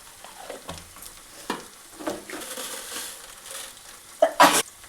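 Tomatoes added to reddened onions in a hot pan for mutton curry, soft sizzling under irregular stirring scrapes and knocks, with a couple of sharper clatters near the end, no voices.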